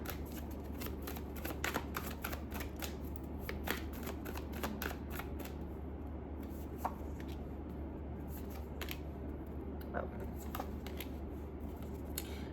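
Tarot cards being shuffled and drawn during a reading, soft crisp flicks and riffles scattered over a low steady background hum, quiet and close, with no speech.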